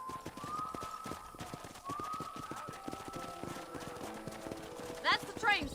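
Steady clip-clopping of horse hooves in Red Dead Redemption, an even trotting rhythm up close beneath ongoing conversation, with a brief whinny toward the end.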